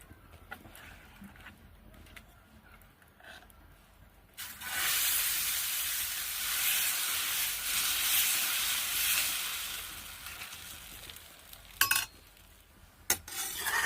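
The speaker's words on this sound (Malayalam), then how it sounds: "വെളിച്ചെണ്ണ തേച്ച് കൊടുത്ത് ദോശ ചുട്ടെടുക്കാം." Wheat dosa batter cooks on a pan greased with coconut oil, breaking into a loud, sustained sizzle after a few quiet seconds of faint scraping, followed by a couple of sharp clinks near the end.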